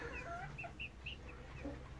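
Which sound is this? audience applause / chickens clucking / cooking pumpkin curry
chickens clucking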